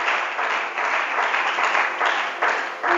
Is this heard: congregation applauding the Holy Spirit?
yes